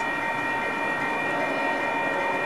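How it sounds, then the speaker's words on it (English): Metra commuter train on the UP-W line coming into Elmhurst station, a steady mid-distance rumble with faint steady tonal hum, continuous for a few seconds without speech. "The next outbound Metra train from Chicago is now arriving in your station."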